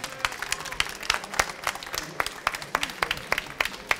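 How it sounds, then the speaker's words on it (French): Audience applause at a photo fair show, a dense crowd of hands clapping steadily for the whole stretch with sharp individual claps standing out. "Donc je veux beaucoup d'applaudissements pour Carmen."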